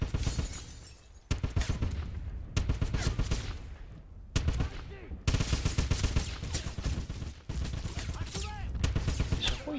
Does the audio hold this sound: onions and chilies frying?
no